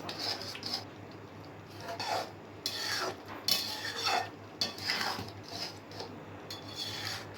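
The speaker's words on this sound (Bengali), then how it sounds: "নাড়াচাড়া করে পুরো মিশিয়ে দিচ্ছি এটাকে" Carrot halwa being stirred and mixed in a pan off the heat, cardamom powder added, giving repeated scraping, rubbing strokes of a spoon against the pan at a steady close rhythm with no talking.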